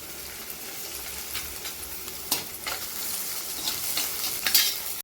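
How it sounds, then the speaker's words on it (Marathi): Okra drops into hot oil tempered with fried chillies and is stirred, giving a steady sizzle with scraping spoon strokes and sharper crackles as the pieces are turned in the pan. "तर चला आता याच्यामध्ये आपण भेंडी टाकून घ्यायची"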